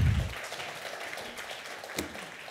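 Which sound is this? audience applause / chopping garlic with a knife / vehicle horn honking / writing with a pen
audience applause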